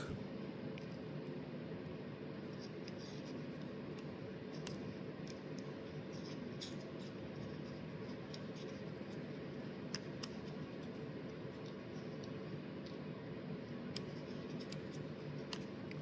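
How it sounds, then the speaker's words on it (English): Small scissors snip material while a minnow fly is being tied, giving a few faint, sparse clicks over a steady background hiss. "Now I want a little bit thicker in the back, so I'm going to cut one more and shorten it a little bit."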